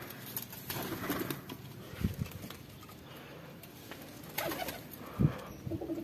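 Pigeons coo in low, throaty bursts, a few separate calls close by over quiet background rustle, with no one speaking.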